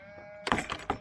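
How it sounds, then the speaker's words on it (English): A sheep bleats close by in an open field near a gate, a short wavering call in a couple of quick pulses after a quiet moment. "we've literally just walked through a field with sheep right at the gate"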